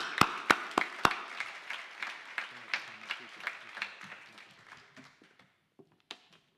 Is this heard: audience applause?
yes